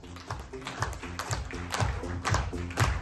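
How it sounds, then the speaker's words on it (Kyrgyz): An audience claps loudly and steadily at a Kyrgyz performance, a dense run of hand claps that keeps up for the whole stretch with no voices on top. "Көбөктөрүбүзгө катуу кол чаап туралы."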